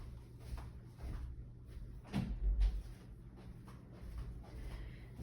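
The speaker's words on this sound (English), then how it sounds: "I just have to open this door real quick" An indoor room door is opened, a soft clunk and rattle from the handle and frame followed by a low thud, with faint room noise around it and no talking.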